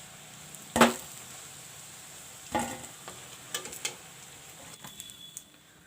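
Banana kofta balls frying in hot oil, with a soft steady sizzle and a few sharp clattering stirs or scrapes, the loudest near the start and another midway, under quiet background hiss.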